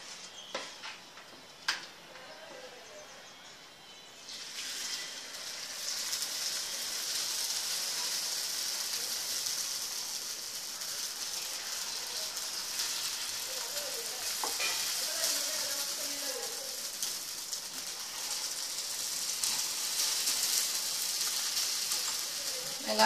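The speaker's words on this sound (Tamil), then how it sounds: "கல் காயட்டும், இந்த மாவை நம்ம ஊற்றிடலாம்." Paniyaram batter poured into a hot pan sizzles steadily and close, a hissing fry that starts after a quiet moment with a couple of clicks and carries on evenly, with no talk over it.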